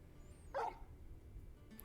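In the Final Fantasy XVI video game, a dog gives a single short bark, quiet and somewhat distant over a low ambient background.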